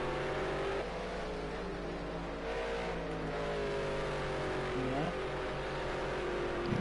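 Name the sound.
race cars engines revving in a racing video game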